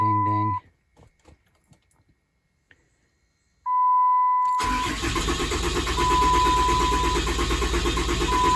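A 6.7 Cummins diesel engine with empty fuel rail and injector lines cranks after a short chime, then fires and settles into a loud, rough idle close by. Someone speaks briefly.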